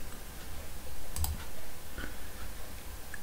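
A computer mouse gives a few faint, sharp clicks over a low background hum, isolated and close, with no talking.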